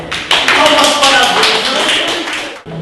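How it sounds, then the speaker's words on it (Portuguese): Applause for a participant at a design debate, a burst of many hands clapping in a room, loud and dense, fading out near the end. "Palmas para Deus."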